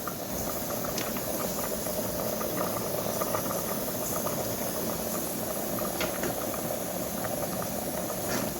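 Brinjal dal (vankaya pappu) simmers in a pot at a steady rolling boil, a dense continuous bubbling and hiss that stays close and unbroken throughout with no talking.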